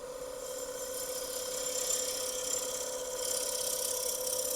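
A box elder bowl spins on a wood lathe, giving a steady, even hum with a faint whirring hiss, close by and unbroken throughout.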